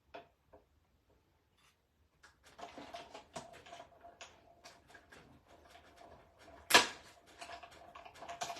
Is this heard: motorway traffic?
no